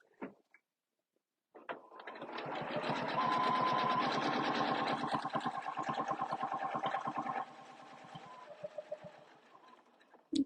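A sewing machine stitches along a quilting template with a spacing gauge, its rapid rhythmic needle chatter building after a brief pause, running loud and close for several seconds, then easing to a softer, slower pace.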